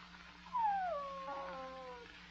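A puppy gives a drawn-out whimper, a thin falling whine that wavers for about a second and a half, fairly close and soft over a quiet background hum.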